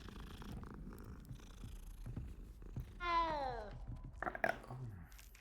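A cat in a Harry Potter-style video game purrs softly and steadily, then lets out a clear rising meow followed by a short second call.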